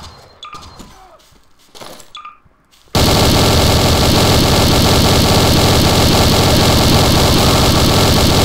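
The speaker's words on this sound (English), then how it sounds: "the M9K machine guns" An M9K machine gun in the video game Garry's Mod fires a loud, continuous burst that starts abruptly after a few seconds of quieter, scattered sounds and holds steady to the end.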